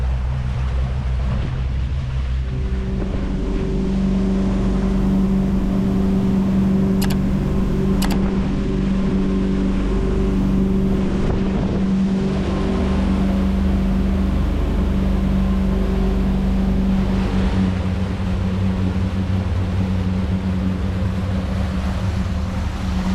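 Loud, steady drone of a motorboat engine at 3,000 RPM, running over 30 miles an hour across Colonel By Lake on the Rideau Canal, with rushing wind and water noise throughout.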